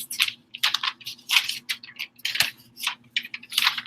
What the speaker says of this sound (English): my paper is making noise